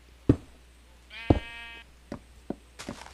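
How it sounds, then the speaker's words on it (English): Sheep bleats in the video game Minecraft, one sharp wavering bleat among a few short knocks and thuds, close and clear against a quiet background. "My God, shut the fuck up, sheep."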